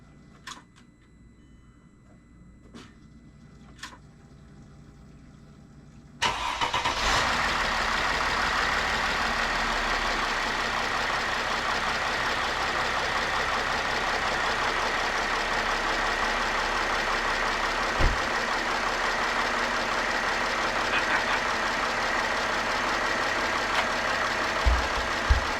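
A 2008 Mercedes GL320 CDI turbo diesel cranks and fires up after quiet clicks, then settles into a loud, steady diesel idle with a rough clattering rumble close to the listener.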